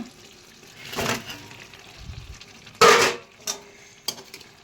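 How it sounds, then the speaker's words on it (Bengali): Fish is dropped into a hot pan at home, giving a sudden loud sizzle amid the scrape and clatter of stirring in the pan, then quieter frying and a few utensil clicks. "তো মাছগুলো দিয়ে দিচ্ছি আমি।"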